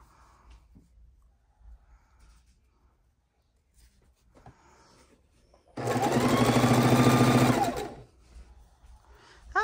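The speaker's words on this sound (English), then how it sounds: "And just keep sewing the pieces together." A sewing machine stitches scrap fabric pieces together for a scrappy quilt block, running in one steady loud burst of about two seconds after quiet handling sounds, close to the mic.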